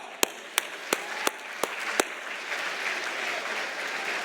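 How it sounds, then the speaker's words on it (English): An audience at an awards dinner breaks into applause, opening with about six sharp, evenly spaced claps before the sound fills out into a steadier wash of clapping at moderate volume. "Let's give both professors one big round of applause."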